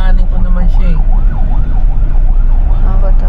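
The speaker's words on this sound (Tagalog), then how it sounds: "Galing yung ambulance ah." An ambulance siren wails past in a fast, repeating up-and-down sweep, loud and continuous over a low rumble of road traffic.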